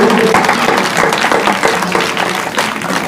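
A crowd at a Ramleela stage staging of Sita Swayamvar on the third night of Navratri at Janipur Ramleela Ground claps loudly and continuously, a thick close-up wall of applause with no pause.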